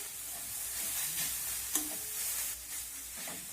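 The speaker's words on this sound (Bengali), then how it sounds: "সবজিগুলোকে আবার একটু নাড়াচাড়া করে নেবো" Mixed vegetables being turned over in a frying pan produce a soft, steady sizzle and hiss with a few light scrapes and one sharp knock of the stirring spoon; close, quiet, no talking.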